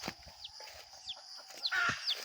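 A labuyo hen with a chick makes soft, short clucks and chirps at close range, broken up by rustling and light movement noise outdoors.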